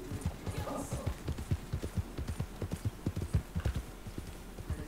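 Horse hooves clip-clop in a quick, steady rhythm at close range in a Wild West video game, a run of distinct beats with faint background noise.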